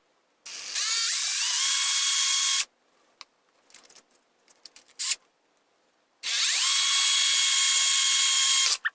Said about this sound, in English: I drilled a 1/4-inch hole right here.